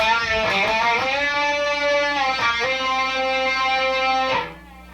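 A distorted electric guitar plays a short lick from a song's solo, bent notes with pull-offs, sustained and ringing, ending with a fade into quiet.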